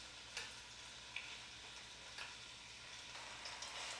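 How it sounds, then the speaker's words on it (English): Beef cheeks sear in a little olive oil, giving a faint, steady sizzle with a few soft ticks and pops scattered through. "we got a nice little sear on our beef cheeks"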